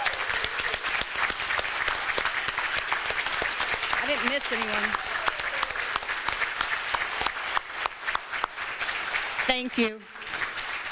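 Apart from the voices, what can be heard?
audience applause for scholarship students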